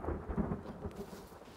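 Rain and rolling thunder in the survival video game The Forest, a low rumbling storm with steady rainfall, fairly loud and alone.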